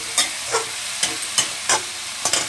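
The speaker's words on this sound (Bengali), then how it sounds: "এখন এখানে নাড়াচাড়া করে চিংড়ি মাছটা তো একসাথে মিশতে হবে" Chopped shrimp being stirred in a frying pan, a spatula scraping in about six distinct strokes over a steady soft sizzle, close and clear with no talking.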